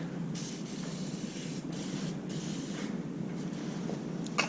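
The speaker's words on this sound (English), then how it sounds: "I'm going to spray her up with some AMSOIL metal protector heavy duty" AMSOIL heavy duty metal protector sprayed from an aerosol can onto an H&S 310 spreader, a steady close hiss running throughout with brief pauses and bursts between pulls of the nozzle, no voices.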